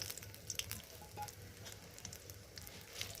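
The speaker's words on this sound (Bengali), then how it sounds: "তেলেই ফোড়ন দিয়ে দেব। তেজপাতা, এলাচ, দারচিনি, লবঙ্গ," Whole spices (bay leaf, cardamom, cinnamon, clove and black pepper) sizzle steadily in hot oil for a spicy Bengali egg curry, a soft continuous frying crackle with faint stirring and no voices.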